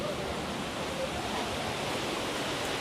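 Steady roaring rush of the waterfall at Monasterio de Piedra, heard from inside the fall itself: a dense, unbroken wash of falling water with no distinct voices.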